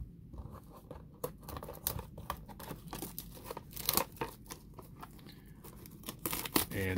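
Panini Select FIFA soccer card packs being handled and opened, with dense close crinkling and tearing of foil wrappers and scattered sharp rustles throughout, no voice.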